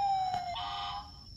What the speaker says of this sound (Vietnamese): cái tiếng xe cứu hỏa kìa